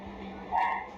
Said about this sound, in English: A dog is heard crying somewhere in this clinic